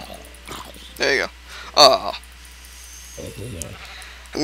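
Minecraft sheep bleat in a heavily modded Feed the Beast game, several short wavering cries spread over a few seconds, loud and close, with someone talking between them.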